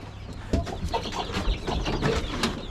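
Chickens cluck in a coop close by, a busy overlapping run of short clucks and calls from several birds with no talk.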